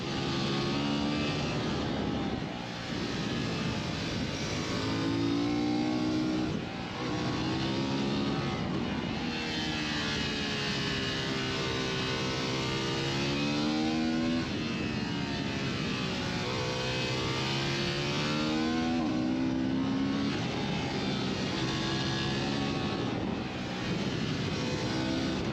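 A 2023 Honda Hornet motorcycle engine drones loudly and continuously while riding, its pitch rising and falling as the throttle changes, under a constant rush of wind noise.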